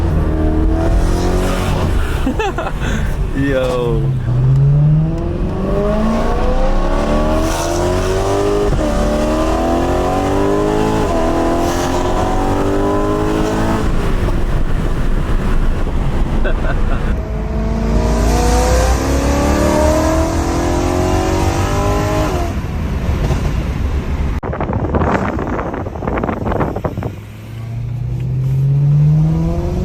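A BMW E92 M3 engine revs hard again and again, rising and falling in pitch through repeated loud pulls with brief tire chirps, while a man makes a short exclamation.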